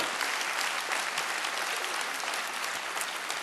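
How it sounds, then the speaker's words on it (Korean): Loud, sustained applause from a church congregation welcoming a visiting pastor to the pulpit, a thick, even roar of many hands clapping without pause and no voices above it. "우리 큰 소리로 큰 박수와"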